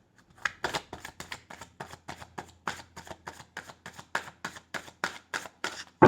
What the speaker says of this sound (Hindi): picking more cards from Romance Angels